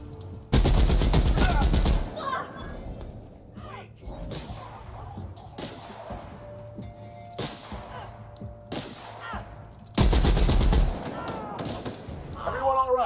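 A heavy gun fires in The Outer Worlds video game, two long roaring bursts of rapid fire with thumps and clatter between them, loud and close, and a voice speaks in the pauses.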